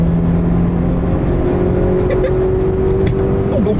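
A Honda Civic with VTEC engages and accelerates hard, its engine loud and close with a rising pitch that climbs through the revs, with a voice speaking over the roar.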